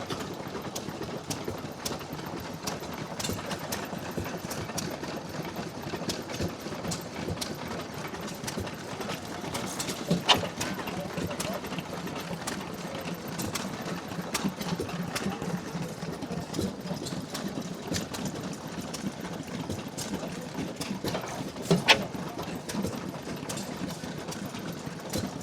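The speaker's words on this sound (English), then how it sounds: "Had this engine for quite a few years now. It was a complete wreck when I got this off a local farm." A restored vintage farm engine runs at a rally, a steady rapid mechanical chugging and clatter that holds an even rhythm throughout, fairly close with faint outdoor background and no speech.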